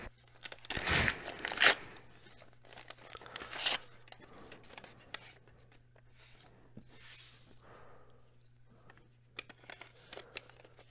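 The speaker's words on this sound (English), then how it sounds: "Okay, I just ripped the card in half." A trading card torn in half by hand, a single sharp loud ripping burst near the start followed by quieter paper rustling and handling, with a steady low hum underneath.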